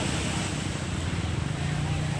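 Constant roar of sea waves and surf at Ganpatipule beach mixed with wind buffeting the microphone, loud and continuous, with a low engine-like hum underneath.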